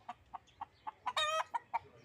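Fighting roosters kept as pet gamecocks give a run of short, evenly spaced clucks, with one longer, drawn-out call in the middle, close by and fairly soft.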